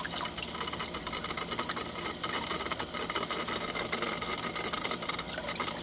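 A small pump runs water through a homemade venturi valve in a desert aquaponics setup, making a continuous hissing, bubbling and gurgling rush with a steady faint motor hum underneath.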